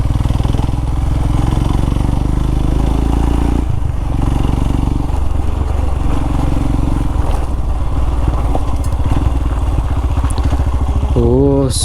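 A motorcycle rides off-road up a hill toward the summit of Shankareshwara Betta near Kunigal, its engine a loud, steady chugging close by. Wind buffets the mic and a voice speaks over the engine.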